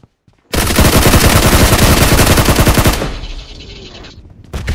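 Rapid, dense gunfire from a shotgun in the mobile battle royale game PUBG Mobile, a loud sustained burst of shots lasting a few seconds that then trails off into quieter rumbling, followed by one more sharp shot at the end.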